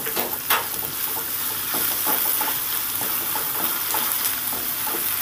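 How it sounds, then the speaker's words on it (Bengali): Chopped onions sizzle and hiss in a hot pan for a prawn and potato curry, with steady frying noise broken by scattered clicks and scrapes of stirring, close and fairly loud. "এবার ভালো করে নেড়ে চেড়ে ভেজে নেব।"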